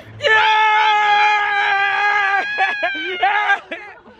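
Group of people yelling and screaming in excitement, one long sustained loud scream followed by choppier overlapping shouts and yells, close and loud.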